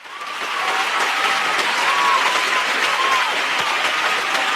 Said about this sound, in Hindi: भाई के आइडिया के लिए ढेर सारी तालियां होनी चाहिए